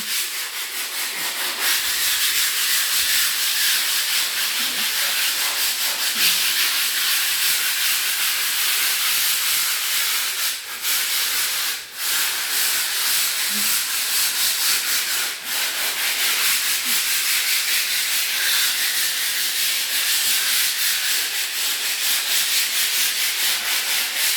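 Sandpaper rubs back and forth over a house wall before primer goes on, a continuous close, loud scratchy hiss with brief pauses partway through and no talk.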